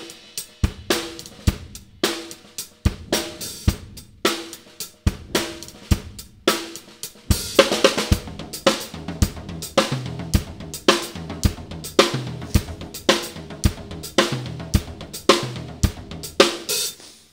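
Drum kit playing a crossover groove featuring the high tom: a sparse opening pattern builds into a steady, busier beat with punchy hits and cymbals, close and alone with no talking.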